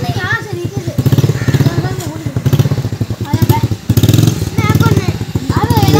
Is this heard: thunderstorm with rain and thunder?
no